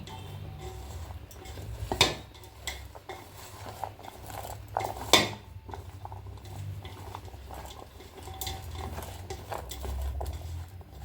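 Papaya pickle stirred with rock salt in a pot, giving soft scraping and patter with a few sharper utensil clinks against the vessel, close and moderately quiet over a low background rumble.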